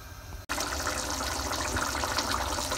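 A pan of tamarind water for puliyotharai bubbles and hisses on the stove, a steady, close, rushing boil that starts abruptly after a brief dip and runs on unbroken without talk.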